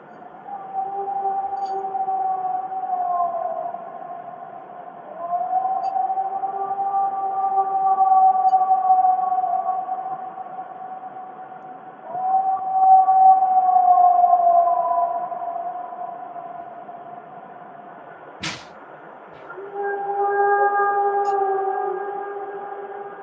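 A recorded alleged Sasquatch vocalization: long, wavering, siren-like howls that rise and fall in several drawn-out calls, echoing across open terrain, with a sharp click partway through and no speech.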